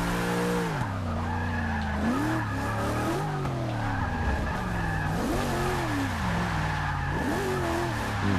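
A Chevy SS drifting in Forza 6 with a manual clutch, the engine revving and bogging in repeated clutch-dump surges over a continuous loud tire squeal.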